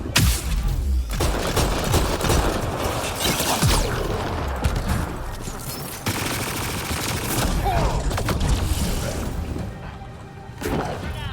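Enemy gunfire in Mass Effect Andromeda on Insanity difficulty, with heavy bursts of shots, crashes and impact thwacks that come in loud, close, chaotic waves and ease off toward the end.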